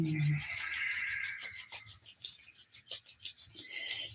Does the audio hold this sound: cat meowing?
no